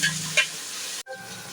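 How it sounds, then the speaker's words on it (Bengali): Ginger garlic paste fries in a pan of browned onions for chicken pakki biryani, giving a steady close hiss with a couple of stirring scrapes and a brief cut-off partway through. "আর আদা রসুনটাও ভালো করে ভেজে নেব।"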